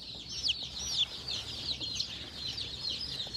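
Baby chicks in a feed store brooder peep continuously, a dense chorus of high, thin chirps overlapping at moderate distance with no speech.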